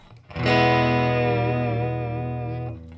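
A single guitar chord strummed once and left to ring, dry and distorted, sustaining evenly for over two seconds before being cut off.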